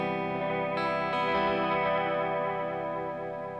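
An electric guitar chord rings out through a delay pedal in vibrato mode, wavering and pitch-wobbling, sustained and shimmering, with no voices.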